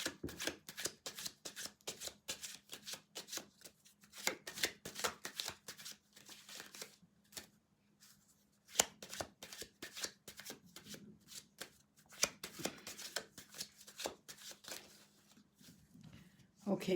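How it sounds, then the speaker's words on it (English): A deck of tarot cards being shuffled by hand, crisp riffling bursts repeating in quick clusters with brief pauses throughout, close and fairly quiet. "let me shuffle this."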